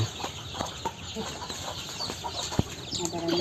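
Village chickens cluck in short scattered calls while pecking at ginger scraps outdoors, moderately near, with soft background rustle and faint distant voices.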